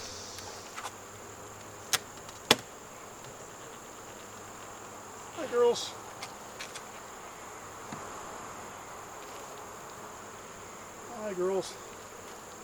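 Honeybees hum around a beehive during winter preparation, with a steady background drone and individual bees buzzing loudly as they pass close by, while a person speaks briefly and softly.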